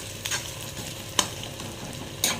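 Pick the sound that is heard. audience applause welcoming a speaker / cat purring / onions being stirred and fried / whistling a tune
onions being stirred and fried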